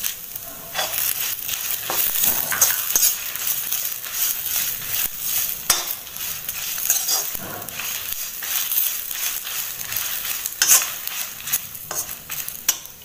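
Cumin seeds and spices fry in a pan for a crab masala, giving a dense, steady sizzle with a spoon scraping and clinking through it, close and fairly loud, and no one speaking.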